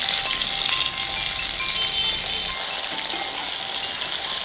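Drumstick (munakkaya) pieces frying and gently stirred in a pan, a steady close sizzle with faint scraping, no talk.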